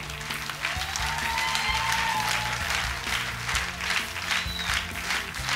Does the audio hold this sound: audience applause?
yes